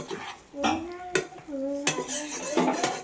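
Metal spoon stirring ground coriander, cinnamon, clove, cashew and green chili paste in a pan for vegetable biryani, with scraping clinks against the pan and a soft sizzle, close and continuous, with a voice briefly under it.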